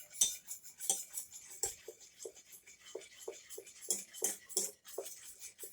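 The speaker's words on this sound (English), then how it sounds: "I'm going to stir it a little bit more." A utensil scrapes and taps against a pot while thickened blueberry cream pie filling is stirred, a rhythmic series of close, distinct scraping strokes with brief metallic clinks, no talking.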